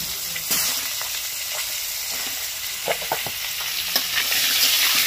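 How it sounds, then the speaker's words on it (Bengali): Cauliflower florets frying in hot oil in a pan, a steady close sizzle and hiss with occasional crackles and stirring scrapes throughout, no voices. "এই ফুলকপিগুলোকে ভাজতে দিয়ে দেবো। প্রথমে ফুলকপিটাই ভেজে নিতে হবে।"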